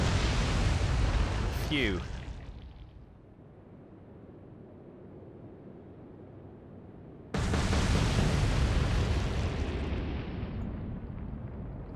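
Torpedo explosions against a warship in the naval video game Atlantic Fleet, two heavy roaring blasts separated by a quieter rumbling lull, with a brief voice over the first.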